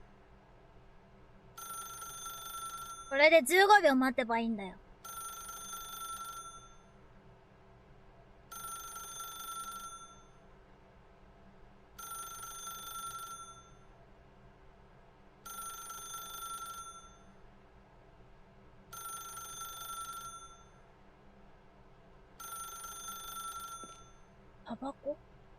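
A telephone rings in The Stanley Parable, in a steady series of bright electronic rings about every three seconds. A voice talks over the first ring, then the ringing continues alone.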